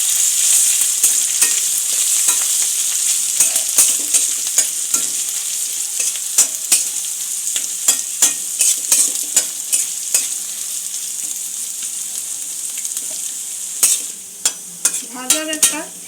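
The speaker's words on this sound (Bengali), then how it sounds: "আঁচটাকে লো করে আমি একটু হালকা করে ভেজে নেব।" Grated ginger sizzles steadily in oil over low heat in a pan for Bengali-style vegetable pulao, with a spatula scraping and clicking at irregular intervals and no talking.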